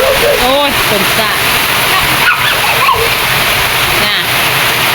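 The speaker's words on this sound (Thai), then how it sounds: "โอ้ยฝนจ้า" A downpour of heavy rain beats on a fruit orchard in Trat, Thailand, a steady, loud rushing wash under a voice talking at the start and midway.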